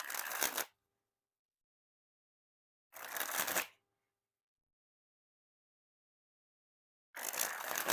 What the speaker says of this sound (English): So it makes for a nice smooth spring.